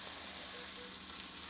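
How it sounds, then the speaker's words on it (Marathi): Sliced medium onion frying in a little hot oil on a griddle for a spicy thecha, giving a steady, close, even sizzle throughout with no talking. "कांदा आपण भाजून घेऊया।"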